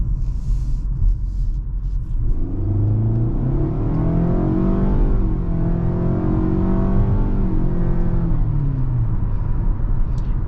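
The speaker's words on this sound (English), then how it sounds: "I'm gonna go ahead and put the car actually in normal mode and do an acceleration right here." A 2022 Nissan Altima base trim with a CVT accelerates in normal mode, its engine rumbling and rising steadily in pitch from inside the cabin, loud and continuous with simulated shift steps.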